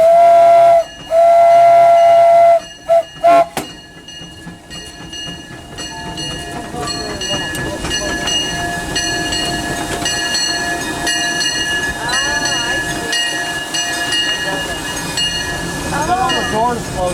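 Disneyland Railroad steam locomotive heard from inside the cab: a sharp steam whistle blasts in bursts near the start, then a steady loud rumble of the running engine and rails carries on with clanking and squealing tones.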